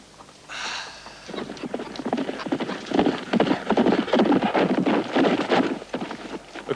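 Horses trot along, hooves clip-clopping in a quick, steady rhythm that grows louder and busier, with a short whinny near the start.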